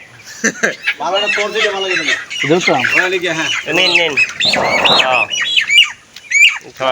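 Broiler chickens from a poultry farm squawking and clucking loudly at close range, in agitated bursts, with people talking in between.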